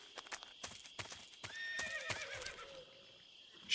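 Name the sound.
horses neighing in a video game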